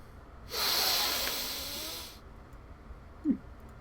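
A voice imitates a creature sniffing, giving one long breathy, hissing intake lasting about a second and a half, close and fairly loud, followed by a short snort-like puff.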